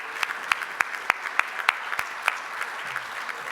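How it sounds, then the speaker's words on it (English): Scattered, light handclaps from a small audience at a Rotary club meeting, honoring committee chairs; individual claps stand apart in an uneven rhythm rather than merging into a full ovation. "We'd like to give you a round of applause."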